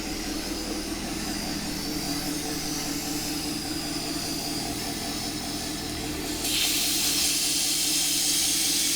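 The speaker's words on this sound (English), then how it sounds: "it's under a suction at this point, so he'll crack that valve and it will literally suck the fluid through the system" A vacuum brake bleeder hisses steadily while drawing fluid through the brakes of a Corvette ZR1, a loud, constant close-up suction noise that grows brighter and louder near the end, with no voices.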